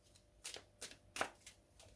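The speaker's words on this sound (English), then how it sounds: "One more shuffle." Four or five quick, crisp riffling bursts of tarot cards being shuffled, close and quiet, with short pauses between them.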